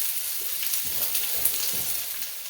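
Thin-sliced red and green peppers and red onion sizzle steadily in a hot pan, a bright continuous hiss with soft stirring bumps underneath, close and without talk.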